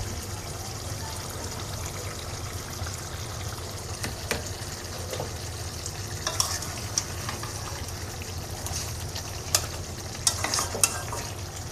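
Fried potatoes are tipped into a pot of cooking mutton and stirred, a low simmering sizzle broken by scattered clinks and scrapes of the spoon against the pot.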